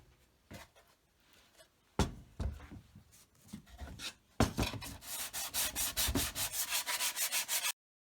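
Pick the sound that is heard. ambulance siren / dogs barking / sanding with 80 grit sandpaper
sanding with 80 grit sandpaper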